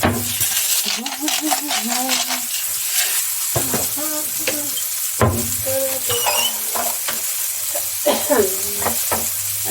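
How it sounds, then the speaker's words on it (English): Fish frying in a pan: a loud, continuous crackling sizzle close up, with a person talking over it throughout and occasional utensil knocks. "Hear that beautiful fry"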